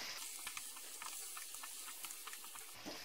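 Mushroom fried rice being stirred in a hot pan, a soft continuous sizzle broken by quick scraping and stirring strokes, close and fairly quiet.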